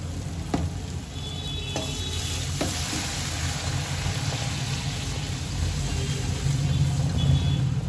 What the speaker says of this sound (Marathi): आता ते गरम पाणी घालून घेते.